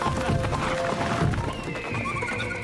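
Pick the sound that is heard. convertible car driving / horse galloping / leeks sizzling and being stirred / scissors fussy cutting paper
horse galloping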